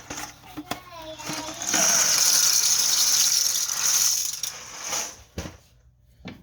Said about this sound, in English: So now I'm going to pour in my noodles.